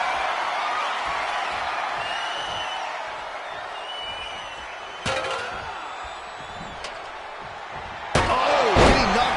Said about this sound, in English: Oh, getting knocked around by the ladder.